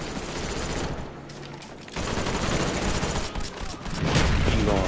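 Gunfire in a Call of Duty Black Ops online clan match, dense rapid automatic bursts with short pauses, loud and continuous.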